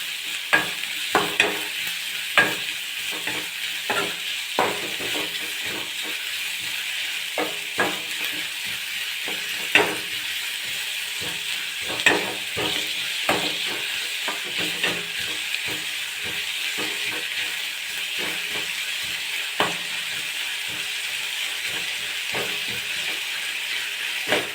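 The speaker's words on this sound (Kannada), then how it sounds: "ಸ್ವಲ್ಪ ಈರುಳ್ಳಿ ಕೆಂಪಗಾಗೋವರೆಗೂ ಬೆನಿಬೇಕು." Onions sizzle steadily in hot oil in a pan for egg curry, with a continuous frying hiss broken by frequent sharp scrapes and clacks of stirring throughout, close and fairly loud, no talk.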